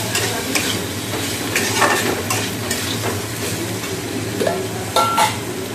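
Okra and potato curry cooking in a pan, with a loud steady sizzle and frequent scraping stirs of a utensil against the pan, plus a low background hum and no talking.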